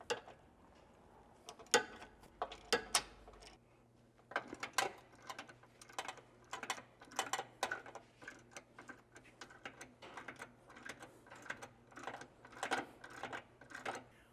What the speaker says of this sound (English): Next, we're going to go ahead and remove the 18mm bolts that hold the bumper on.